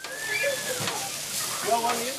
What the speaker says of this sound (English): nothing says Australia Day like a sizzling sausage on the barbecue